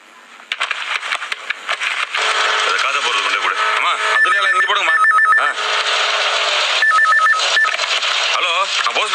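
A telephone rings with repeated electronic ring bursts in an Indian Tamil household setting, heard clearly under ongoing voices and background music.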